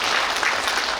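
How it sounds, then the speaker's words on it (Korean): An audience at a book launch event claps together, a brief dense burst of steady applause heard close with no talking. "여러분 박수 한번 주십시오."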